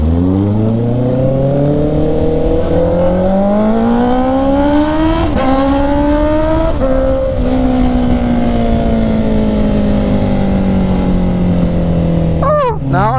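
A Honda CB650R motorcycle rides with a steady, loud engine drone whose pitch climbs through the revs, dips sharply at each gear shift around mid-ride, then settles into a long, gently falling cruise before a final brief change near the end.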